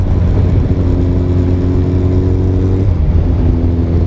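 A Kawasaki Ninja 1000 motorcycle engine roars loud and close as the rider holds a wheelie, a steady droning tone that drops sharply near the end before picking back up.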